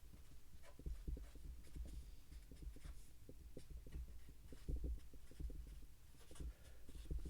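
Steady scratching of a pen or marker writing out chemistry suggestions by hand, a run of short close strokes with a low hum beneath and no talking.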